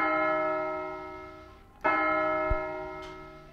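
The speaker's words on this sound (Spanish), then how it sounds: "El sonido de las campanas, que también el humano los asocia mucho con la muerte." A large bell tolls, its deep ringing tone slowly fading before a second heavy strike sounds and rings on.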